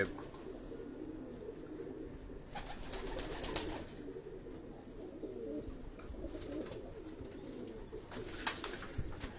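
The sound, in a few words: Khaksara pigeons cooing in cage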